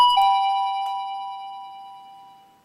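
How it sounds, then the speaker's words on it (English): An Optex wireless driveway alarm receiver sounds its third chime tone, a single clear electronic bell-like ding with steady ringing overtones that slowly decay, alone and close. "Here is a demonstration of the third chime tone available."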